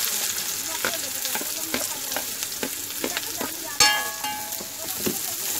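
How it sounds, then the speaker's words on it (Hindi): Chopped onion hits hot oil in a kadhai with a loud, steady sizzle, a sharp burst of frying partway through and repeated scraping stir strokes throughout, close and without talk. "अब तेल गर्म हो चुका है हमारा, हम इसमें डालेंगे कांदा कटा हुआ"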